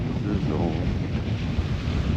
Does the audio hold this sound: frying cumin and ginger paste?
no